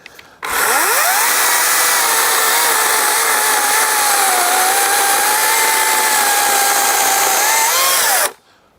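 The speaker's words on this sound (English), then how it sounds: "chuck it into a 16-inch chainsaw, and I get that level of performance" A Greenworks battery chainsaw with a 16-inch bar runs steadily at full power for about eight seconds, a loud continuous whine with a slight dip in pitch mid-cut, then stops abruptly.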